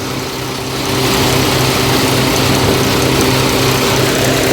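A tractor-driven peanut thresher runs loud and steady with a constant low drone and rumble, without pause.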